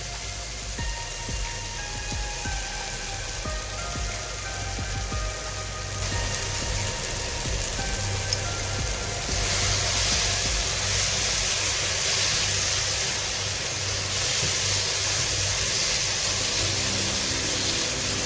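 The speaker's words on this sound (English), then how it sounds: "Continue frying this until the tomatoes turn mushy and the masala oozes out oil from the sides" Steady sizzling and crackling of curry masala with tomatoes frying in a hot pan, a continuous hiss that swells slightly partway through, no voices.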